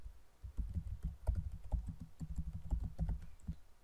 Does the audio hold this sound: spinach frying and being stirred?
no